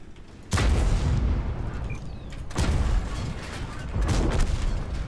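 Heavy tank cannon shots in World of Tanks, three deep booming blasts spaced about two seconds apart, each loud and close with a long rumbling tail, and no talking over them.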